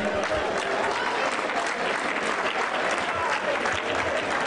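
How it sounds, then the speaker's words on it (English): Sustained audience applause at a kickboxing event, dense and even clapping from a large crowd for several seconds with faint voices underneath. "let's give them a nice round of applause"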